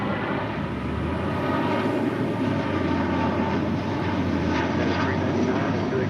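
Heavy jet engine roar at LAX near the runways, a steady loud broadband rumble with a faint rising whine, continuous throughout with no talk.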